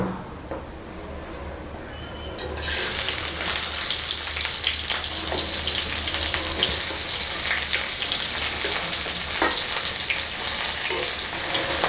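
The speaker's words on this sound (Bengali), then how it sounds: "তেলটা একটু গরম হয়ে আসলে আমরা এর ভিতরে ঢেলে দিচ্ছি রসুনের কুচি, পেঁয়াজ কুচি এবং" Chopped garlic, onion and green chilies hit hot oil for a water lily dish, a sudden loud sizzle after a quiet start that settles into steady crackling frying with occasional stirring clicks.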